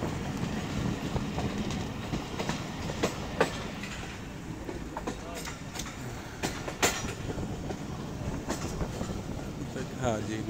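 Aboard the Jaffar Express running from Lahore to Gujrat, a steady low rumble fills the carriage, broken by scattered sharp rail clicks and clanks at an even moderate level.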